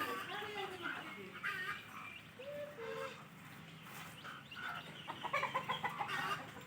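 Young ducklings give repeated small peeps and chirps, let out in hot weather, with louder fowl calls and a voice talking over them.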